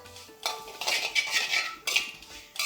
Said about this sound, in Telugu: లావు అటుకులు తీసుకొని ఈ వేడిగా ఉన్న నెయ్యిలోనే వేయించేసుకోవాలి మంచిగా వేగనివ్వాలి